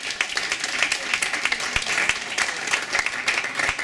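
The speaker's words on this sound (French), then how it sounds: "On va applaudir bien fort également." A Paris tribute concert audience claps loudly and steadily, a close, dense patter with a few sharper individual hand claps standing out.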